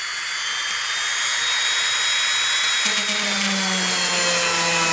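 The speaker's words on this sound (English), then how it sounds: "I'm just drilling a hole right in the middle." A variable speed Dremel drills a hole in a plastic knife grip, a loud high whine that drops in pitch partway through as the bit bites and slows, close and alone.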